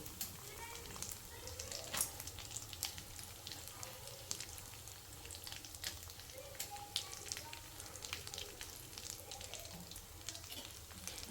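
Sliced almonds fry in a pan for carrot halwa, giving a soft, steady sizzle with faint crackles and occasional stirring clicks, quiet and close.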